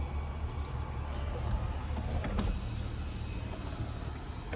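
One-touch power roof of a 2024 Cadillac Escalade closing, a faint, steady electric motor hum running throughout inside the cabin, with a soft click midway.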